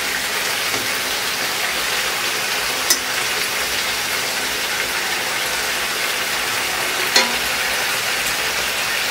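Chicken pieces for a country-style kosha sizzle steadily in a pan, a continuous close frying hiss with a couple of brief scrape knocks as they are stirred, no talk.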